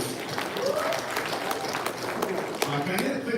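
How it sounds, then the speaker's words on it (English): An audience claps for the builders at a gathering, a moderate round of applause with scattered sharp hand claps, while people speak and murmur underneath. "let's hear a round of applause for all the builders"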